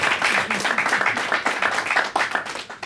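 Scattered audience clapping at a live music program, a moderately loud, uneven burst of hands that rises and dips over a few seconds, with a little crowd noise mixed in.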